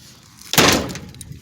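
A hot rod truck door slams shut with one loud, close thump and a brief rattle, which fades quickly into quiet.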